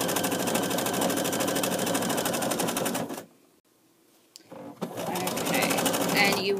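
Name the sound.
sewing machine doing decorative satin stitches with variegated thread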